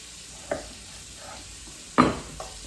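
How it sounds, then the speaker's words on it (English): Chunks of fatty beef sizzle steadily in hot oil in a pot, and two louder scraping tosses land about a second and a half apart over a soft, continuous frying hiss. "I'm just going to toss these around in the oil"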